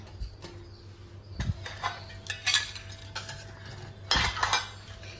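Brass puja utensils in a home shrine room clink and clatter as they are moved and set down, with scattered sharp metallic knocks and a couple of louder jangling bursts over a low hum.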